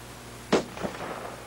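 A single sharp rifle shot cracks once, loud and close, in a 1986 war film, followed by a softer echo or second report and a low ambient hum.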